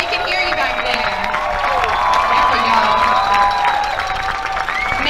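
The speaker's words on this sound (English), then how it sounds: "Let's give them one last big round of applause." A crowd at the Miss Universe 2017 national costume show applauds and cheers loudly, with steady clapping mixed with whoops and shouts sustained throughout.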